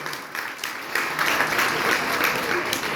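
An audience at a school speech event applauds to honour a teacher whose students won sports medals, a dense sustained wash of many hands clapping that swells after the first second and stays loud to the end.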